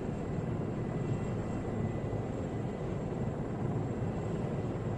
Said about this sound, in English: I'm in a fucking helicopter.